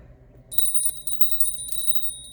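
Small bells rung in several quick strikes, bright sustained ringing tones layered over a low steady background hum, fairly close and clear with no talking.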